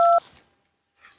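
A phone being dialled to call the police, two short clear touch-tone beeps at the start, then near silence before a brief burst of high, rustling noise.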